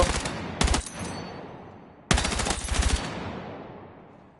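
Gunfire from the video game Battlefield 6: two loud, close bursts of rapid machine gun fire, each cracking sharply and decaying into a long reverberant tail, with no talking.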